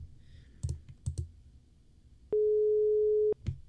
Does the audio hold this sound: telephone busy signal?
yes